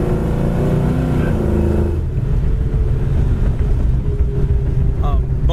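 A white 1964 Chevy Nova drives over a bumpy road, a loud, constant low rumble of engine, tires and suspension mixed with heavy wind buffeting, the tone shifting partway through.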